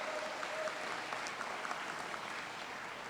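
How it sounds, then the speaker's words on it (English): An audience claps steadily at an International Day of Yoga celebration, a dense, even wash of applause holding at moderate loudness for about three seconds, with a brief whistle-like cheer near the start. "give yourselves a big round of applause"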